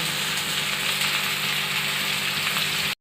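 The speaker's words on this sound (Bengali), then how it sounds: "তো আলুটা আমি আগে ভাজা ভাজা করে নিচ্ছি" Potatoes fry in a pan, giving a dense, even sizzle and crackle that holds steady at close range before cutting off abruptly at the end.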